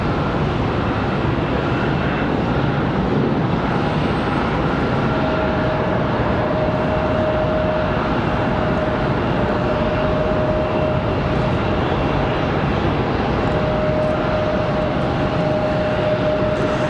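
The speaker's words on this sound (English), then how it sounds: "our 777 up for departure" Boeing 777 departing Charlotte Douglas International Airport, a steady, loud broadband engine roar that holds evenly throughout with a faint high whine running above it.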